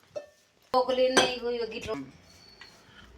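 A metal spoon clinks and scrapes against a pot while brinjal curry ingredients are stirred together: paste, oil, cardamom, cloves and shahi jeera. A few quick, close stirring strokes are followed by fainter scraping.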